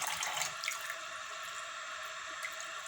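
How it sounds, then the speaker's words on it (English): A faucet runs into a glove to fill it like a balloon, giving a steady gentle stream with light splashing and dripping, faint and unbroken. "I'm going to let the faucet run. I'm going to turn on the tap."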